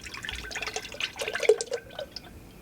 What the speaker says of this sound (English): and you're going to pour your oil.